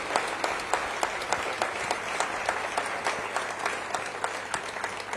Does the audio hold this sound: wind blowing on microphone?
no